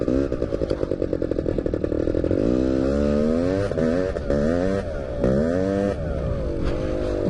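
A quad bike engine, recently rebuilt and still being run in, revs hard during a wheelie, a loud close buzzing roar whose pitch climbs and drops repeatedly as the throttle is worked.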